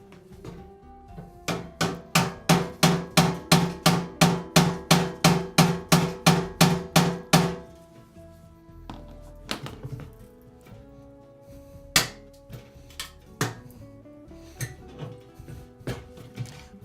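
Rapid, evenly spaced metallic bangs strike the bolt of a combination safe being forced open, about fifteen loud hits in a row, then scattered slower knocks and taps.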